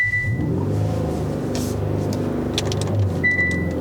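Engine of a 2021 Hyundai Sonata N-Line sedan held on brake and accelerator during a launch control attempt, a steady loud low rumble at raised revs, with a brief chime at the start and end.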